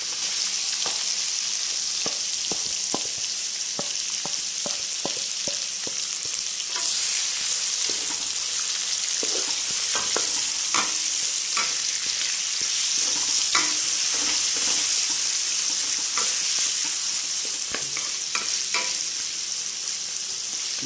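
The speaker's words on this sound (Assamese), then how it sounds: "আৰু 1 মিনিটমান সময় আমি ভালদৰে ভাজি ল'ম।" Onions sizzling steadily in hot oil in a pan over low heat, with frequent scraping stir strokes of a spatula throughout; a close, continuous fry with no talking.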